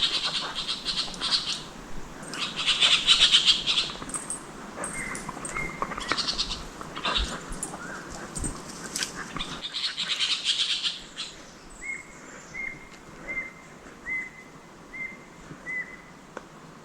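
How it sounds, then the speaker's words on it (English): Birds call loudly and chaotically, with overlapping chirps and screeches, then a thinner run of repeated high calls toward the end. "There's some birds or something down there making a heck of a ruckus"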